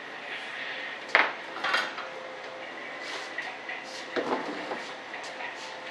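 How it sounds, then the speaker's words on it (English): Paint being stirred in an old metal primer can used as a mixing cup, giving scattered metallic clinks and scrapes, one sharp knock early, then softer taps over a steady background hum. "Using this old primer can for a mixing cup. I'm mixing up quite a bit at a time."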